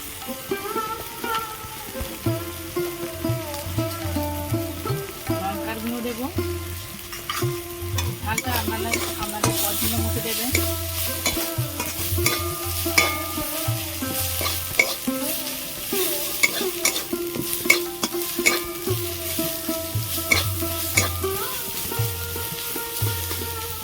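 Ginger paste and turmeric fry in a pan for a Bengali Bombay duck dish, a continuous sizzle with repeated scraping stirs of a spatula against the pan and faint background music.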